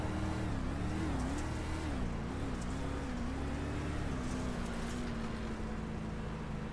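A dirt street stock race car engine in the iRacing video game drones steadily, its pitch wavering then flattening as the car loses power, continuous and fairly faint.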